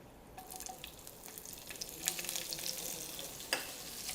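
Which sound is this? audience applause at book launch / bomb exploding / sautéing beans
sautéing beans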